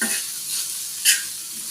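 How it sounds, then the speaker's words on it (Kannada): Okra for a dry sukha fry sizzles in hot oil in a pan, a steady crackling hiss with a brief louder burst of stirring partway through and no voices. "ಇದು ಎಣ್ಣೆಯಲ್ಲೇ ಫ್ರೈ ಆಗಬೇಕು"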